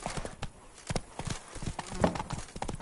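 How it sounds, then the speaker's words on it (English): A horse galloping in The Witcher 3 video game: rapid, close clip-clop hoofbeats on the ground running steadily throughout, with brief game voice sounds mixed in. "Run, Roach."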